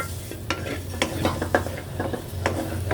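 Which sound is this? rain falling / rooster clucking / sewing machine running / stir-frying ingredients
stir-frying ingredients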